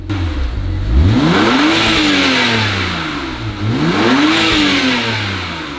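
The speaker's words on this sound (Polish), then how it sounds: "Klikamy i cichutki wydech i zaraz na cichym zobaczycie." A BMW 335i engine revs up and down twice through a muted Akrapovič exhaust, the pitch rising and falling in smooth sweeps, close and fairly loud.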